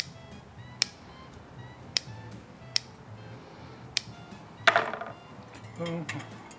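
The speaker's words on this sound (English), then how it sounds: "You can use your knife, but don't forget to cut your strings." A knife cuts the strings off a smoked pork roulade wrapped in bacon, giving sharp, quiet clicks and snips at irregular intervals, followed by a brief scraping rasp and a soft clatter against the board.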